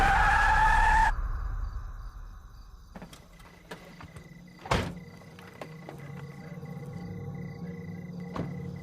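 A car brakes and skids to a stop with a loud, brief tire squeal, followed by quieter clicks and a thump.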